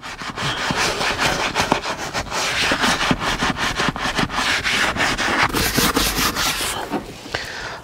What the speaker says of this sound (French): Il faut absolument que les sièges soient clean avant d'appliquer les produits. Donc on y va, on frotte.